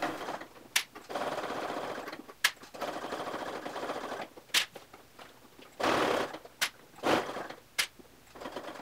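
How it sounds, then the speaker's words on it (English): Sewing machine stitching around the corner of a clear vinyl tote bag, running in short bursts of rapid whirring separated by sharp clicks and pauses, close and fairly quiet. "I'm going to continue sewing around the corner."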